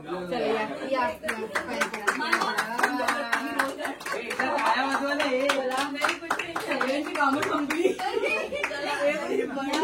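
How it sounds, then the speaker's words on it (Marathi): Guests at a Hindu wedding reception clap together in a dense, sustained burst of applause, under lively chatter and a little laughter close by. "टाळ्या वाजवा."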